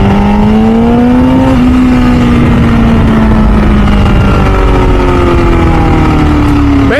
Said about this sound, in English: With that exhaust, MV Agustas always sound like old F1 cars